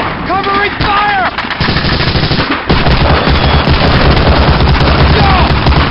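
Rapid machine gun covering fire in a WWII video game, loud sustained bursts of automatic gunfire with booms, after brief shouted voices at the start.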